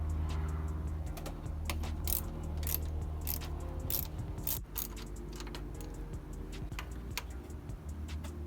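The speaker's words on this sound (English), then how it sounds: "Okay, so took out the bolts." Ratchet clicking in quick irregular bursts while removing bolts from a Mazda Miata during a thermostat and fuel pump job, close and fairly clear over a low steady hum.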